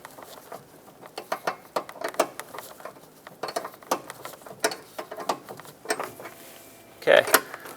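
Wrench working loose a 12mm brake line fitting on the master cylinder of a 2014-2021 Mazda 6, giving a run of small metallic clicks and ticks in an uneven rhythm, up close, ending in a louder burst of clatter.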